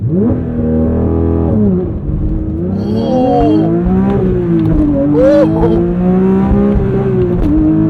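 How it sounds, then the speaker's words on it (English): A 2022 Porsche 911 GT3 does a launch-control start, its engine revving loud and close, pitch climbing and dropping through quick gear changes in a continuous high-revving wail. "Try a quick launch control."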